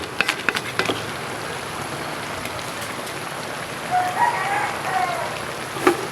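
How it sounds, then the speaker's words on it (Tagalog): Heavy rain pours down outside a kitchen where crab is being cooked, a steady dense hiss with a few faint clicks and taps. "Habang malakas ang ulan."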